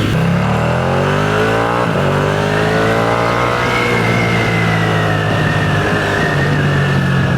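A Ducati Scrambler 1100 Evo L-twin motorcycle engine revs hard and loud, its pitch sweeping upward through the gears and then holding a high, sustained note with no talking.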